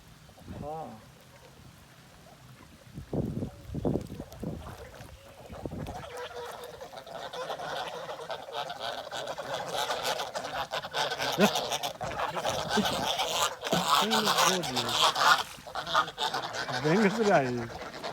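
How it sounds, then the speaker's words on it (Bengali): Village geese honk in a burst of loud, nasal calls early on, then keep squawking intermittently under rain and people talking nearby. "রাজহাঁস"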